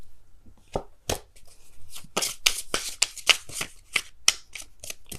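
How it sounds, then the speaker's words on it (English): Tarot cards being shuffled by hand, a run of crisp riffling bursts and snaps, close and fairly loud, in irregular quick succession with no talking. "Can I just shuffle?"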